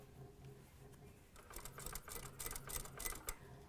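A sewing machine stitches a zipper pocket on a vest, its quiet rapid needle chatter building from about halfway through in short bursts over a low hum.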